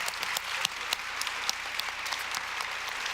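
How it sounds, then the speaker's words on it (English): An audience at a community gathering applauds a re-elected Board of Education member, a dense, even round of clapping with a few sharp individual claps standing out. "Mr. Danny Tillman, let's give him a round of applause."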